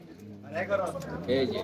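A racing pigeon coos softly in a few short throaty bursts, close by, while a voice is also faintly present.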